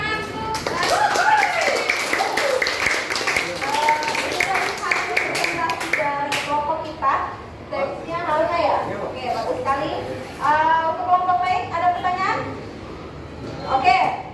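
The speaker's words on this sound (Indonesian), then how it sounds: "Oke, kita beri tepuk tangan." Students in a classroom clap for a group presentation, scattered sharp hand claps mixed with children's chatter and voices throughout, rising again briefly near the end.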